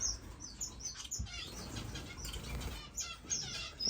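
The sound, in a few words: parrot finches and Gouldian finches chirping in a bird room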